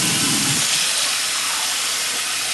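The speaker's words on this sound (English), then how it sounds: "So we're going to have to rinse the grits again." Water running over grits being rinsed, a loud broad continuous hiss of flowing water with a slightly fuller gurgle near the start, steady for the whole stretch.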